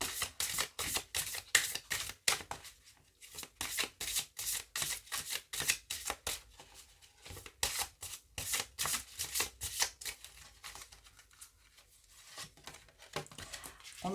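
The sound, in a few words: shuffling oracle cards (La Fleur de Vie)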